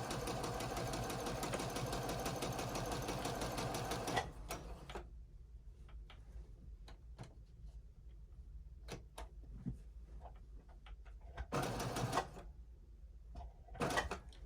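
A sewing machine stitching fabric for a mask and scrub cap runs steadily and close for about four seconds, then stops; afterward come scattered clicks and handling ticks and two more short bursts of stitching, with no talking.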